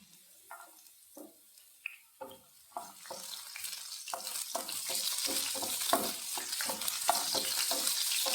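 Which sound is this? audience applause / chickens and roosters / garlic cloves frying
garlic cloves frying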